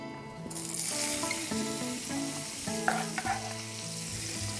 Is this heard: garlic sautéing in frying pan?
yes